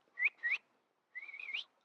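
A person whistles to imitate a police whistle: two short rising chirps followed by a longer warbling whistle, close and fairly quiet against silence.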